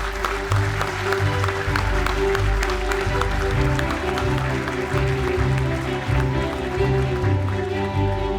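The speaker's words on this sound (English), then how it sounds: "please join me in giving a warm round of applause to the advisory committee members of the 𝗏𝗏𝗡 Education Fund" Applause at a graduation ceremony honouring members of an education fund's advisory committee: steady, moderately loud clapping with a low rhythmic music bed underneath, and no voices.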